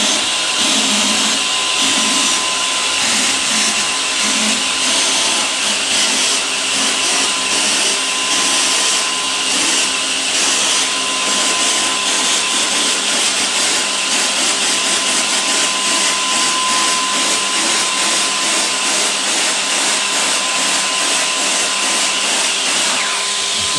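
Wagner Flexio W950 airless paint sprayer running continuously while spraying paint, a loud, steady motorized roar with a hissing spray that holds for the whole stretch, no talking.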